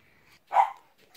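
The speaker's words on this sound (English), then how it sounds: "My dog is just barking because you can hear a dog outside." A single short dog bark, fairly faint, set against a quiet background.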